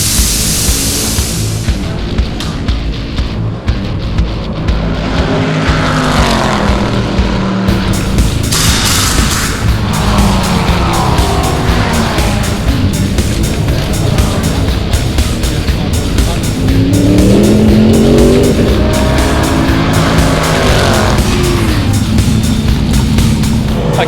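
Tulloch Motorsport SaReNi Camaro GT3 race car at the Hampton Downs 3 Hour race, its engine roaring loud and continuous with rising and falling revs, while people talk over it throughout.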